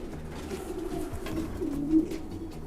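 Racing pigeons coo steadily in a loft, a low, continuous rumbling murmur of several birds at close range with one slightly louder coo near the end.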